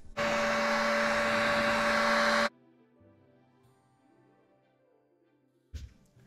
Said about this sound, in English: I'm going to put the heat gun on here and get this bearing race pretty warm